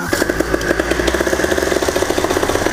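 A cold paramotor engine, just started after a throttle crack, runs with a rapid, rasping two-stroke putter, loud and close, with steady regular firing pulses throughout.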